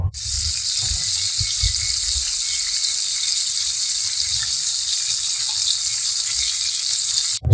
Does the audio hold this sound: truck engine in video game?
no